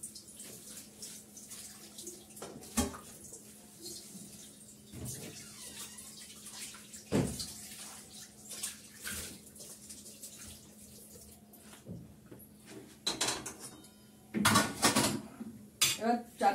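Water runs and splashes while a wok (karai) is rinsed and scrubbed in a kitchen sink, with intermittent clanks and scrapes of metal through the washing; a voice talks at times underneath.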